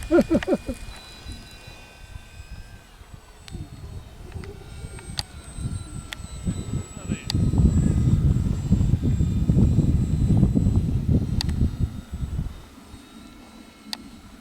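A model aircraft flies overhead at an RC flying site, its engine building from a distant drone to a louder, steady buzz as it passes near, then fading again.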